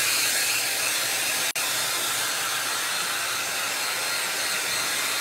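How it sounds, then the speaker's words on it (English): A hair dryer blows steadily at close range, a constant broadband whoosh with one brief cutout partway through. "Let me get my hair dryer because it's not dry all the way"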